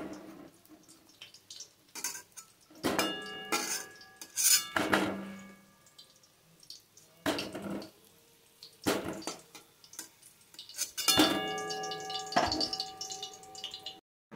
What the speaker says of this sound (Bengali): এবার আমি একটা একটা করে একটা পাত্রে তুলে নেব।